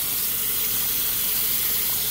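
Water pours steadily from a tap in a continuous hissing rush, close and unbroken throughout.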